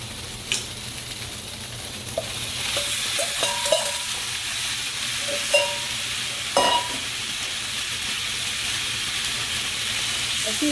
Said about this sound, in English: now I'm going to add the onions and peppers back